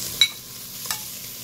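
Squid and shrimp hit a hot pan for Chinese lomi, giving two short sharp sizzling bursts over a quiet, steady frying hiss.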